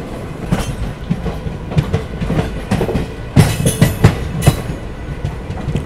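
ICF train coach rolling along the track on the Delhi to Dehradun Mussoorie Express, with loud rhythmic clickety-clack wheel beats over a constant rumble and no voices.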